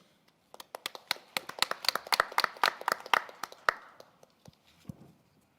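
An audience at a Korean policy forum session breaks into applause. It starts with a burst of individual claps, thickens into a crowd for a few seconds, then thins out and fades.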